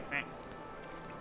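A single short duck quack rings out from a duck-watching video game, brief and fairly close, over a low steady game background with a voice talking nearby.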